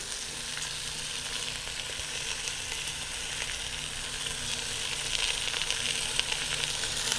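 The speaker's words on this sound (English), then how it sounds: "It's searing up very nicely." A roast and lots of onions sear in a pan with a dense, continuous close-up sizzle and crackle that holds steady and grows slightly louder near the end.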